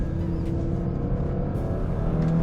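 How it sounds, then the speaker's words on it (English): A 2018 Audi RS3 with a turbocharged five-cylinder engine, aftermarket exhaust and tune accelerating hard, a loud continuous low engine roar heard close and steady, with no talk over it. "Split second, spool the turbos up, and you are gone."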